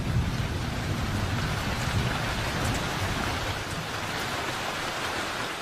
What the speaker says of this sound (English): When rain comes to Sabah, it comes hard and without warning.